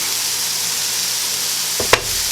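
A burger patty fries in a pan with a steady broadband sizzle throughout, loud and close, with a brief clatter near the end as it settles.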